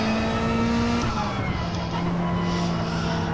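A Lamborghini race car in a racing video game roars loudly and continuously, its engine pitch holding steady before dropping slightly partway through.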